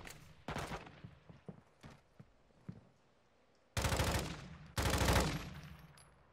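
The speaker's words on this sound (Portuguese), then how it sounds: "Eles ficam atirando entre eles" Soldiers trading fire in Warzone DMZ: a few scattered shots, then two loud, sustained bursts of rapid automatic gunfire at close range, with no talking.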